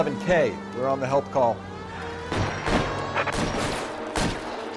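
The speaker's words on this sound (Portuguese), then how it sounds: "Tiro, é tiro, é tiro, é tiro." Gunfire in the video game L.A. Noire, several sharp shots in quick bursts and single cracks across the stretch, with someone talking excitedly between and over them.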